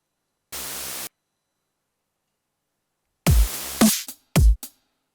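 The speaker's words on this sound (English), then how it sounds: "we're only going to use this sound as a white noise." A steady burst of synthesized white noise made in GarageBand for a dubstep-style drop plays alone for about half a second, then after silence several louder, choppier noise bursts follow in quick succession.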